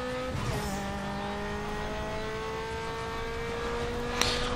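A car engine in Need for Speed Underground 2 revs up through rising tones with a brief tire squeal, a steady loud acceleration alone over game ambience.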